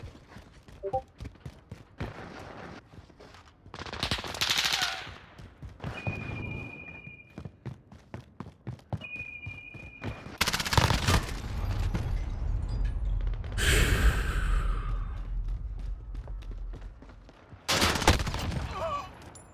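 Rapid bursts of gunfire from a Kilo rifle and other weapons in a Call of Duty: Warzone match, loud, repeated volleys with short gaps between, along with scattered game effects.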